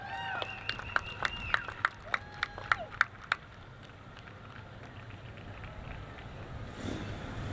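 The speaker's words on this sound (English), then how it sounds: "Let's give him a round of applause" Scattered, distinct handclaps from an outdoor crowd at a Veterans' Day parade in Wichita, a few sharp claps for a couple of seconds before fading into steady wind and street ambience.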